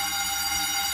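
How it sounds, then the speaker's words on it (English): Fire alarm sounding inside a Food Lion supermarket in North Wilkesboro, North Carolina, a steady, loud, high-pitched electronic tone that holds unbroken throughout the brief moment. "That's a fire alarm."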